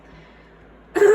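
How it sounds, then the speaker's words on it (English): A single throat clearing near the end, a short loud rasp after quiet room tone. "I'm getting very frustrated with having to clear my throat constantly"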